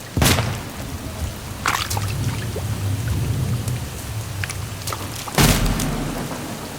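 Steady rainfall patters across a broad wash of noise, with a couple of sharper bursts like heavy drops or distant thunder cracks breaking through near the start and end.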